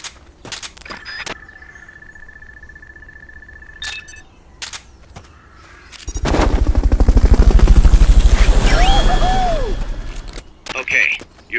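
A helicopter in Metal Gear Solid: Peace Walker swells in from about six seconds, a loud, fast rotor chop that peaks and fades, following earlier clicks and sharp mechanical game sounds.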